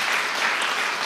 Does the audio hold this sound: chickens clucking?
no